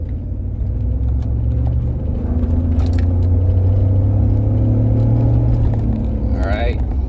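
A Ford F-150 pickup engine on a test-drive pull, a steady low rumble that swells as the truck accelerates, loud and continuous, with someone talking over it throughout.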